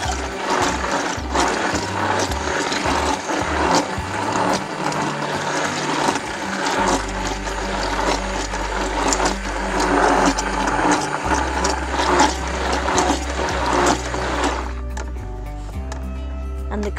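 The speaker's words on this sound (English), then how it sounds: "You just want to keep stirring and then blend, and then stir and then blend." Handmade soap batter is worked with a blender, a steady loud mechanical whir running continuously with shifting low hum, alternating briefly near the end as the blending eases off.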